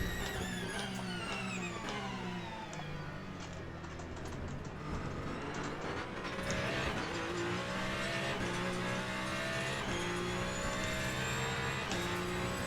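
Race car engines roar and whine in the Le Mans Ultimate racing game, with an Aston Martin GTE in traffic, as engine tones climb and fall through gear changes, steady and loud with a few sharp clicks.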